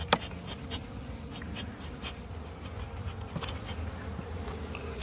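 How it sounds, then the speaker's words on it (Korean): Honeybees swarm over the frames and insulation of a beehive in early spring, giving a steady, soft, close buzz that runs without a break, with faint scattered ticks and no voices. "경립판에 벌 붙은 거 보이시죠?"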